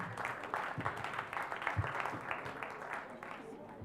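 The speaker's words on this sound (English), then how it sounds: "That's a really tired clap. We can do better than that." Tired, thin applause from a small town hall audience, a quiet, sparse patter of scattered claps with a few louder thumps, fairly distant and low in level.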